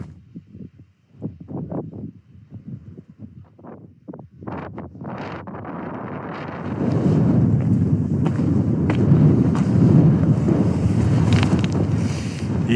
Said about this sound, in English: Fairly windy, mind you.